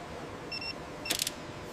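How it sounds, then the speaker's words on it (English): A hand torque tool bolts aircraft seatbelt anchors in a jet factory, giving a short tonal whine followed by a quick burst of sharp ratcheting clicks, close and brief over a steady factory hum. "Seatbelt anchoring, bolted by hand to torque sensor tools."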